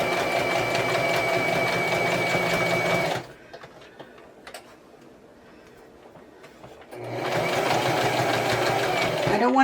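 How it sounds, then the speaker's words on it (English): A sewing machine runs loud and close, stitching fabric for a Christmas garland, stops for a few seconds of near quiet with small handling noises, then starts up again in a steady whirring chatter. "Okay, so I'm just going to carefully sew this"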